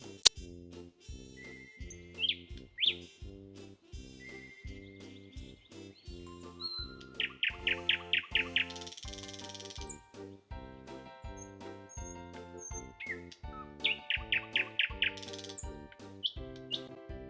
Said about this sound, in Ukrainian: А ще до нас прилітає співуча пташка це соловей. Соловейко гарно співає.